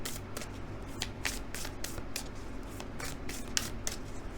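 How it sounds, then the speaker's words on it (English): Crisp repeated riffling and flicking of Color Goddess oracle cards being shuffled and handled by hand, close and steady with quick bursts in an even rhythm. "Let's draw one of my Color Goddess cards."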